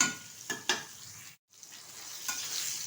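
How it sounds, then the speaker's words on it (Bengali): Long-cut pointed gourd (potol) pieces fry in oil, making a faint steady sizzle with a few soft stirring clinks and a short break in the middle. No one speaks. "আমি লম্বাভাবে কেটে নিয়েছি, আর এটা আমি ভালোভাবে একটু ভেজে নেব।"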